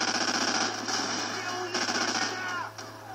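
An M249 SAW fires in Call of Duty 4 team deathmatch: bursts of rapid automatic fire blend with steady game ambience and a low hum, the shots fairly loud and sustained across the clip.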